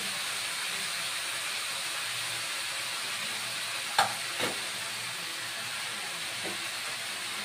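Pumpkin leaf stems frying with turmeric powder in a pan for a vegetarian chachchari, a steady soft sizzle and hiss throughout with a couple of faint stirring clinks.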